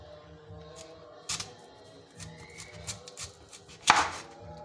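A knife cuts peeled sweet potato into pieces for pakora, a few soft irregular slicing taps on a board with one sharper, louder cut near the end, quiet and close.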